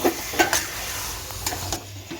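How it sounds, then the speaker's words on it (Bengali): Taro curry with ginger-cumin paste and grated coconut is stirred in a pan over a soft sizzle, with a few brief utensil scrapes and knocks up close. "সব কিছু দিয়ে ভালোভাবে নাড়তে থাকবো"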